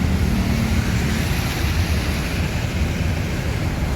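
A big bus rumbles as it pulls out of a bus station. The low engine drone is steady, with constant traffic noise around it and no voices.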